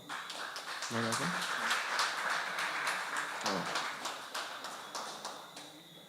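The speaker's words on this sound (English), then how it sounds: "Ladies and gentlemen, a round of applause for Mr. Miguel Cosme." An audience at a community youth and sports awards ceremony applauds steadily, a faint, distant patter of many hands lasting several seconds while a voice speaks over it.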